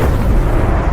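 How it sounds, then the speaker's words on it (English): A catastrophic explosion set off by a massive lightning bolt striking a plain, a loud sustained rumbling blast that fills the low end and rolls on without a break. "A catastrophic explosion shook the earth."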